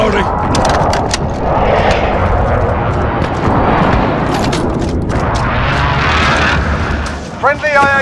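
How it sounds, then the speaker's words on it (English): Airstrike explosions in Call of Duty Modern Warfare: heavy rumbling booms and blasts roll on continuously with mixed gunfire, while a radio-style voice speaks over the din. "Be advised, friendly precision airstrike inbound."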